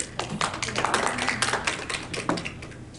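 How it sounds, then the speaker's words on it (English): Audience members at a debate event clap together for themselves, a moderately loud, sustained patter of overlapping hand claps with some stronger individual hits throughout. "I just wanted y'all to clap for yourselves before we got started."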